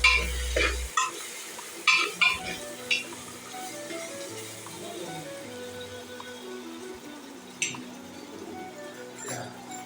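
Onions for chana masala sauté in a pan with a faint, steady sizzle, broken by a few clinks and stirs near the start.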